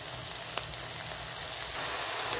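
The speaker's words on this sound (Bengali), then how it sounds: "কড়াই শাকটা দিয়ে দিয়েছি, এবার ভেজে নেবো" Kalmi greens (karai shaak) frying in a hot wok with a steady, close sizzle and crackle, broadband hiss running evenly throughout with a low hum underneath.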